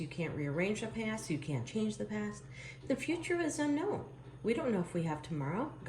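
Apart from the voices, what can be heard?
No everyday noises stand out.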